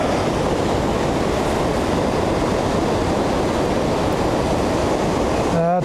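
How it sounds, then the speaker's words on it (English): Dagger Falls, a waterfall by a fish sluice, gives off a loud, unbroken rushing roar of falling water that fills the whole stretch, close and steady without pause. "That's Dagger Falls in all its glory."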